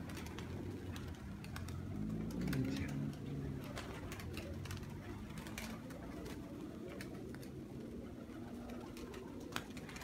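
Several pigeons coo in low, soft repeated phrases against a steady outdoor background hum, with a brief pass of talk, amid fancy tumbler pigeons kept in a loft.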